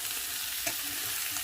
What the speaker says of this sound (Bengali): এবার ঝিঙা, আলু আর মুগ ডাল এই 3টে জিনিসই আমি খুব সুন্দরভাবে ভাজা ভাজা করে নেব।